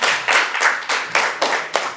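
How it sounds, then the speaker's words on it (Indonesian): A small group claps at a school teachers' dissemination session on positive culture, with seven or eight distinct bursts of hand clapping in an uneven rhythm, fairly loud and close, with no talking over it. "Boleh tepuk tangan Bapak Ibu"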